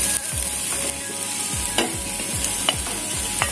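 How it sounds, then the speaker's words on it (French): Diced bell pepper tipped into a pan of frying onion and garlic for chili sin carne, a steady sizzle under repeated scraping stirs of a spoon, close and fairly loud with no talking. "alors on va mettre le poivron."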